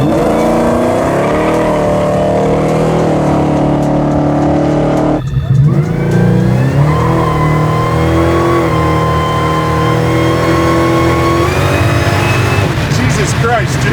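A 1000 HP supercharged LS9 Chevy Colorado ZR1 pickup revving and accelerating hard, loud and close with rising engine tones, a gear change midway and tire squeal, while people talk over it.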